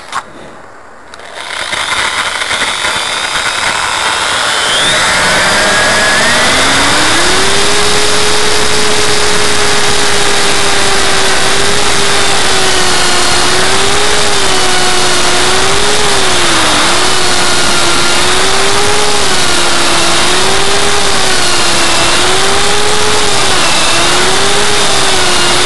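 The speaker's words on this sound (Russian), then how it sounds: "Берем дрель со сверлом миллиметров на 6 и сверлим дырку" A loud, sustained motor whine rises and then holds with slight wavering pitch, like a power drill running continuously, drilling a hole with a 6 mm bit.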